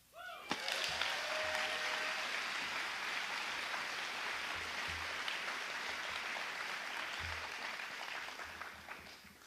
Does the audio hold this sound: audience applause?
yes